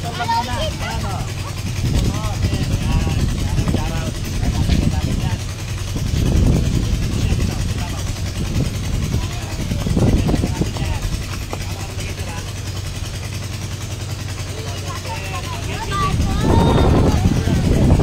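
Several motorcycles pass one after another in a barangay in Concepcion, Tarlac, each engine swelling up close and then fading, with people talking over the traffic.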